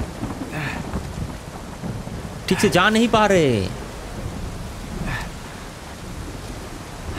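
Steady rain hisses throughout a rainy stretch of Uncharted 4, with a low rumble of thunder swelling midway while someone speaks briefly over it.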